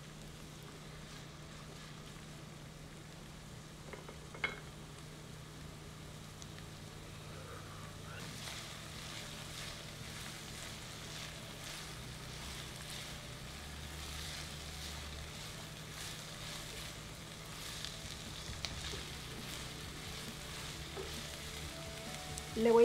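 Rice with cod cooking in a pan with green chili, a soft continuous sizzle and occasional stirring scrapes, faint and steady.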